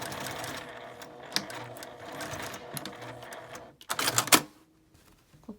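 A sewing machine stitches a drawstring bag in quick rapid bursts, with a louder stretch near the end before it stops and leaves faint room sound.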